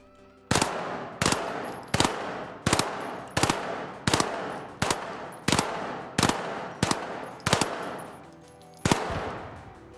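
Light gun in the video game The Finals fired as eleven sharp, evenly spaced single shots, each loud crack followed by a brief tail, with no voices.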